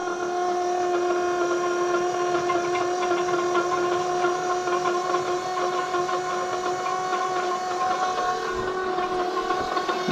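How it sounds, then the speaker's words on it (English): An oil pump runs on a turbocharger test rig, giving off a steady, close mechanical whine with a constant hum that holds without change for the whole stretch. "Let's get an oil pump running here for a bit."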